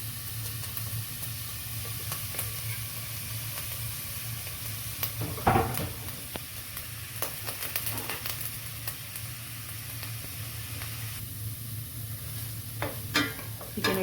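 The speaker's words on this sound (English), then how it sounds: "You're gonna give it a nice stir, mix it all up, just until the onions turn soft." Onions, green chillies and freshly grated ginger sizzle steadily in a pan for a Goan crab curry, with a spoon scraping and stirring through them in bursts, a few sharper clatters standing out near the end.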